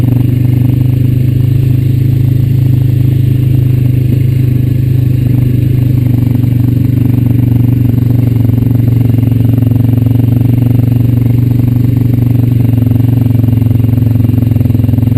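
Honda Rancher 420 ATV cruising along a path beside a tobacco field, a loud steady engine drone with rattling clatter throughout, continuous and close, with no speech.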